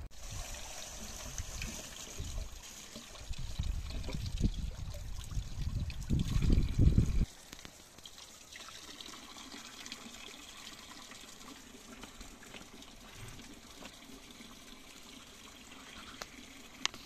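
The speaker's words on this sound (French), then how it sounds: "Là on a trouvé une petite source qui coule, on va remplir nos bouteilles." Small spring water trickling outdoors into bottles being filled, a steady wet dribble that is loudest over the first seven seconds, then drops to a quieter background flow.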